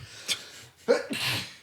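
A single person sneezes close by, a quick intake of breath followed by a sharp, breathy burst, heard alone in a quiet indoor setting.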